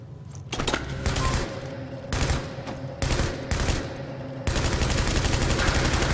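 Automatic weapons fire in a Dark Zone firefight in Tom Clancy's The Division, in several loud, dense rattling bursts separated by short lulls, ending in one long sustained volley.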